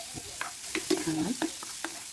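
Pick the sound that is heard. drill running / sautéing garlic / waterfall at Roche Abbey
sautéing garlic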